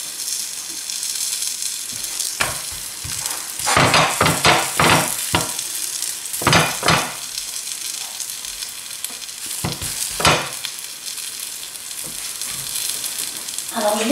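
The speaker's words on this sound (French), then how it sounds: "sur une plaque artisanale appelée tagine, je vais commencer par les cuire, alors légèrement huilées" Tuna galettes frying on a lightly oiled handmade tagine plate: a loud, continuous sizzle and crackle with bursts of spattering, broken by scraping and clattering strokes as the galettes are handled.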